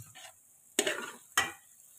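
A spoon stirs makhandi halwa cooking in desi ghee in a pan. There are two distinct scraping strokes with a soft sizzle beneath them, close and fairly quiet.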